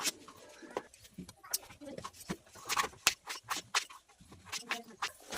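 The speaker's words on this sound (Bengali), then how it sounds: "আলুগুলো আমি পাতলা পাতলা করে লম্বা লম্বা করে কাটবো" Peeled potatoes being sliced by hand into thin, long strips in a home kitchen, giving a run of close, quick crisp cuts and knife taps at an uneven rhythm with soft handling noises between strokes.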